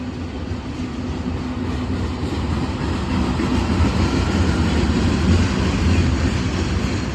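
CSX freight train passing at night, a steady broadband rumble and rolling clatter that swells slightly as cars go by, continuous and fairly close, with no talk.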